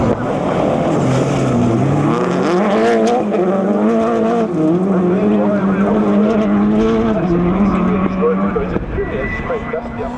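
Rally cars, a Ford Escort chasing a Subaru, race past with a loud, continuous engine roar that rises and falls through gear changes, while a voice talks over it.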